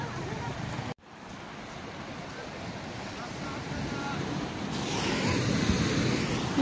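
Steady roar of ocean surf on a Lamma Island beach in Hong Kong, with wind buffeting the microphone, briefly cutting out then building louder, with faint voices mixed in.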